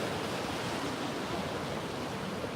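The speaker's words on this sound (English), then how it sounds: "Waves, yeah, it's pretty" Ocean surf at high tide under a full moon on a Kauai shore rolls as a steady broad wash of noise, even and unbroken throughout.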